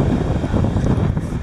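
Wind blowing at the beach while people are in the water, a steady low rumbling roar buffeting the microphone throughout with no talk.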